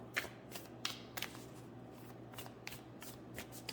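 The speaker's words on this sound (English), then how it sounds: "So let's pull a Moonology card, Oracle as well." Moonology oracle cards are shuffled and pulled, giving a series of quick, crisp riffling flutters and soft snaps, close but quiet with no talking.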